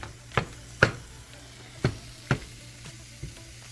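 Beef frying on a stove burner, a soft steady sizzle broken by several sharp crackling pops spaced irregularly, close and moderately quiet with no talking.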